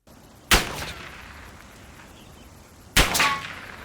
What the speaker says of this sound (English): we are testing the footsteps and gunshots from the enemy side